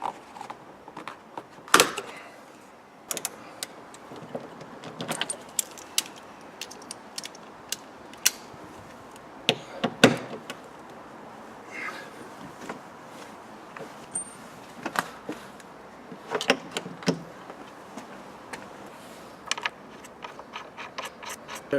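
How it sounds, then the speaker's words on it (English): Parts are removed from an Audi 2.7 Bi-Turbo door to take off its door mirror, with scattered creaks, plastic scrapes, clicks and clunks close by and no one speaking. "Let's see if we can take the door mirror off."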